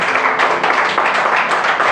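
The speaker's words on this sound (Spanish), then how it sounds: "Si vamos a aplaudirle, aplaudámosle al Señor." A church congregation claps for the Lord in a dense, steady burst of many hands, loud and close, with no talking over it.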